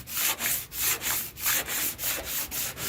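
Car paint being sanded by hand with a wooden sanding block, rhythmic back-and-forth scraping strokes, about nine evenly spaced passes, close and loud with no talk.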